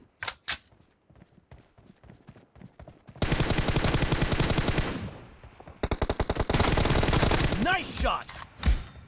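Sustained bursts of machine gun fire in a video game team deathmatch, loud and rapid, with a couple of long volleys following a few scattered single shots. Brief speech is heard near the end.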